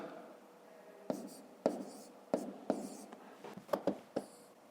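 Pen writing numbers on paper during a 5th-grade maths prime factorisation exercise, a series of about nine short sharp scratches and taps over a faint steady hiss, close and quiet.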